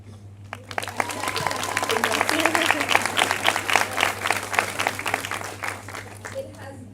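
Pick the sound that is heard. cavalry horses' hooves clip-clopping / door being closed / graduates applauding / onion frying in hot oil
graduates applauding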